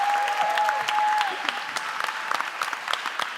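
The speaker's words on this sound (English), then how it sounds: "Let's give her a round of applause in advance and enjoy this." Audience applause at a live closing event, a dense steady clapping from a crowd that fills the whole stretch, thinning slightly toward the end, with a brief tonal note early on.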